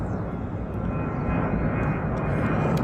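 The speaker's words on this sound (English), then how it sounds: "With the jet in the background" A jet aircraft engine roars steadily in the background as a dense, continuous broadband rumble, with a few faint voices under it.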